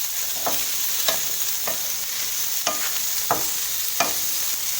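Fresh garlic sizzles steadily in hot oil for Jamaican beef pies, with a spoon scraping and stirring through it every second or so in clear, close strokes.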